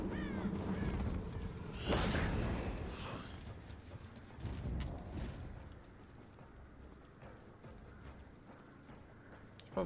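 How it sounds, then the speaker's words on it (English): A crow caws inside the horror video game Dead by Daylight, a few harsh calls rising over a dense, rumbling game soundscape with scattered clatter, fairly loud throughout. "This crow's still here."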